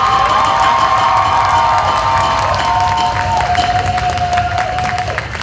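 Lively student crowd at a Latino student association pageant at the University at Buffalo cheers, whoops and claps loudly throughout, a dense, sustained roar with shouted voices.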